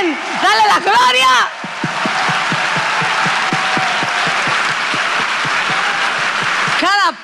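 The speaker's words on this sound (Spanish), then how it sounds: "¡Aplauso!" A church audience applauding, a dense sustained wash of clapping under a loud, rhythmically chanting voice, with brief bursts at the start and end.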